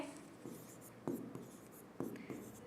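Teacher writing notes by hand, with soft scratching strokes and a few sharper taps of the pen at a steady, irregular pace, close and quiet, with faint low voice sounds in the background.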